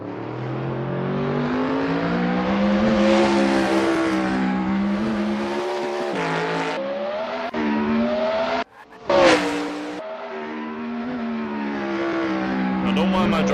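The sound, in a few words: Dallara F3 race car engine driving in Assetto Corsa video game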